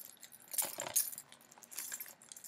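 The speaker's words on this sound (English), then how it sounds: "Keys!" A small bunch of keys jangles close by in a couple of bright metallic bursts, light and quiet, with no talking over it.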